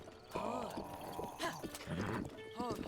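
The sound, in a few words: horse in Zelda Breath of the Wild video game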